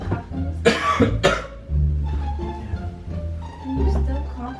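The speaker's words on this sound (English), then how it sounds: "Are you still coughing?" A person coughs in two hard, close bursts near the start, with a quieter cough later, against a steady low background hum and faint room noise.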